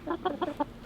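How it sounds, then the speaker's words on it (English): Egg-laying chickens, a flock of year-old hens on a family farm, give four short, evenly spaced clucks close to the microphone, with no talking. "Today we are moving out one of our groups of egg-laying chickens."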